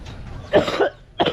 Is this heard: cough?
yes